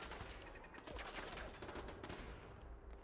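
Turret gunfire in the Fallout 4 video game, a dense continuous rattle of shots blending with game noise for a few seconds, no talking.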